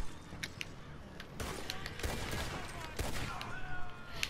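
Gunfire from outlaws attacking a moonshine delivery wagon in Red Dead Redemption 2: a sustained, dense volley of overlapping shots with sharp cracks standing out among the rattling, fairly loud throughout.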